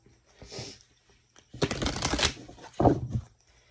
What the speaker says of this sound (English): Let me just prep the cards good.